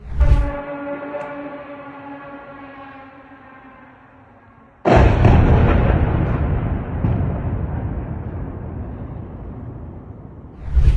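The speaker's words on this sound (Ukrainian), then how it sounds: "Мешканці чули характерний звук ВПЛА, а згодом потужні вибухи." A rising and falling drone engine tone gives way to a sudden loud blast, followed by a long rumbling roar of explosions, with another thump at the end, during a night drone attack on Ternopil.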